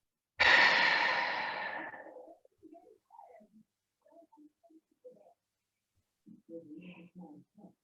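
A person lets out a loud sigh-like exhale near the start, followed by a few faint, scattered breath sounds and soft rustles in an otherwise quiet room.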